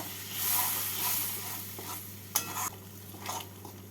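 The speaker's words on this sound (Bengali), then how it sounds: "জল দিয়ে মশলার সাথে ভালো করে মিশিয়ে নিচ্ছি" Spice paste for egg curry being stirred with a cup of hot water in a pan, a soft sizzle and swishing with a couple of sharper spoon scrapes, close but fairly quiet over a low steady hum.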